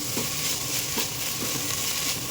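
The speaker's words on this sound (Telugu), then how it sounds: "దీంట్లో ఒకసారి స్పూన్ పెట్టి ఇలా కలిపేసుకుని" Amaranth greens being stirred in a pot with a spoon, a steady hiss with a few soft scraping strokes under it, close and fairly quiet throughout, no talking.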